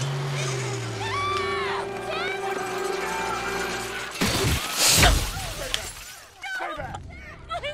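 Glass shattering and crashing in a scene from the film Final Destination 2, a loud smash burst in the middle after tense buildup, mixed with crowd noise and people reacting.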